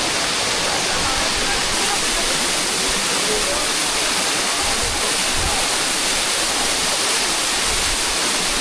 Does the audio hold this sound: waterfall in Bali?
yes